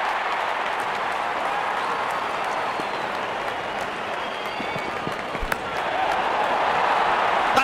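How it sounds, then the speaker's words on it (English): Stadium crowd in the Real Cricket 22 video game cheers as the openers walk out, a steady, dense roar of applause and voices with a swell near the end. "Openers walking in and the crowd cheering in anticipation."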